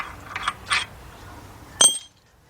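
Ratchet clicks on the harmonic balancer bolt of a 2003 Jeep Liberty Sport 3.7 engine: three short bursts of close, crisp clicking, the last one loudest, ending in silence.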